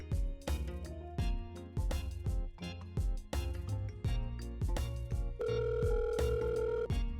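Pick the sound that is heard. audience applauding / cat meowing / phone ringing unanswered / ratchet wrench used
phone ringing unanswered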